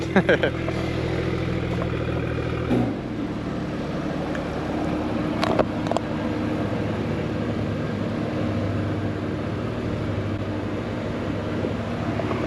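A car engine with a newly fitted valvetronic exhaust idles with a steady low rumble throughout and a few sharper blips, while someone talks over it nearby.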